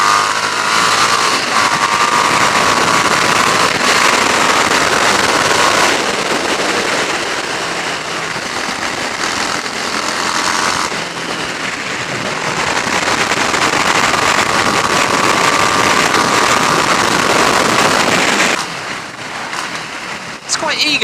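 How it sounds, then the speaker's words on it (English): A Harley-Davidson Street 750 is revved and thrashed on a fast road test. Its engine note rises and falls beneath loud, constant wind roar, with a rider talking over it. "when you start revving it up and thrashing it like that"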